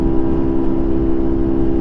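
A Honda CT70 motorcycle engine revs steadily at high RPM at about 90 to 100 km/h during a top-speed run, a constant loud drone with a strong low hum and some wind rumble, with no speech.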